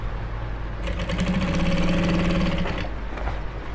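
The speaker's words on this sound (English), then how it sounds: "Make sure that you centralize the footer of your machine at the midpoint of your biased material" A sewing machine top-stitches bias-cut material along a garment neckline. It is a close, steady mechanical whir that starts after a brief pause, runs for about two seconds and then stops.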